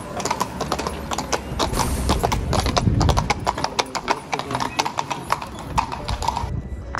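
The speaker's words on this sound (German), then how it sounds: "Ach, sogar Kutsche." Horse hooves clip-clop steadily on a street in Salzburg, Austria, as a horse-drawn carriage passes, with a busy, continuous outdoor backdrop and faint traffic-like rumble.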